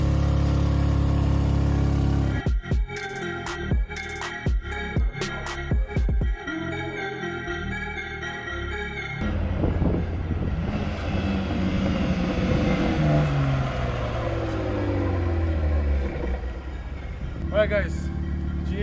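A BMW G80 M3 engine running with its exhaust removed sounds raw and uneven. Sharp cracks and bangs come first, then a loud rising and falling drone of revs, with voices talking over it.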